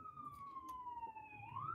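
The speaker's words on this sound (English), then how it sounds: "when I hear the ambulance" A distant ambulance siren wails in a slow falling and rising tone, faint and steady against low traffic rumble.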